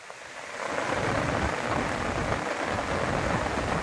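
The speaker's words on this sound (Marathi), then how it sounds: "आता मजबूत आता पाऊस पडत आहे" Heavy monsoon rain pours down near a British-era bridge in Rajapur during Konkan flooding, a loud, dense, continuous roar of rainfall on surfaces.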